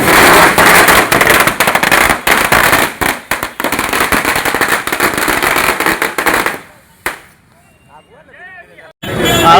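Party workers set off celebratory fireworks at Laheriasarai Tower. Dense, loud firecracker bursts crackle rapidly and continuously among a crowd's babble, then stop, leaving faint voices before one last sharp crack.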